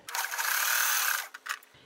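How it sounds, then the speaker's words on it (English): A sewing machine stitches a quarter-inch seam on a quilt block in one quick continuous whirring run of about a second, followed by a couple of short bursts, close and alone. "I'm sewing 1/4 of an inch seam allowance using the top square as my guide"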